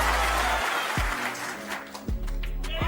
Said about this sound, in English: When that final black dropped, the whole place erupted.